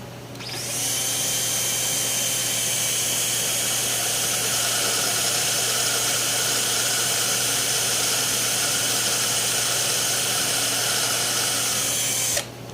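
A lathe spins steadily while bolt patterns are marked between two mating parts, a continuous loud machine whine with a strong low hum that starts abruptly, holds even throughout and cuts off at the end, with no voices.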